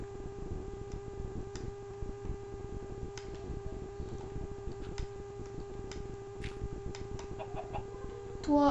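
Chicken clucking in the Minecraft video game: faint, scattered short clucks over a steady low background hum, with a louder burst right at the end.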